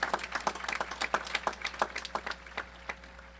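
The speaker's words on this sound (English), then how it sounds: "Everyone, please give them both another round of applause" Scattered audience clapping at a high school graduation ceremony, a few dozen distinct claps that start fairly busy and thin out to sparse, isolated hand claps by the end, heard at moderate distance in a large room.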